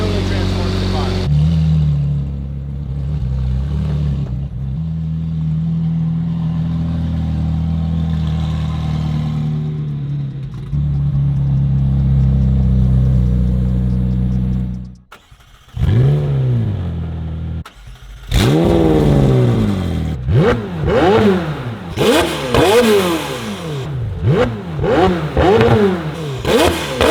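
McLaren Senna with a stage 2 titanium X-pipe exhaust idles with a deep, loud burble, then gives a series of sharp revs rising and falling in rapid bursts, close and very loud.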